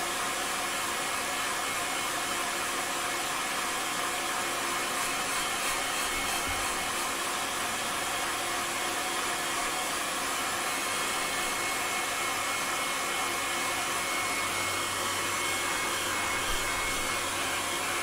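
A hair dryer blows steadily on a freshly coloured woodturned piece, a loud continuous airy roar with a broad hiss that holds level throughout, with no talking.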